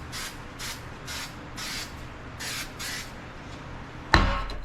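Spray paint hisses onto a homemade lantern case in several short bursts, about six in a row, each lasting under half a second, followed by a sharp clunk near the end.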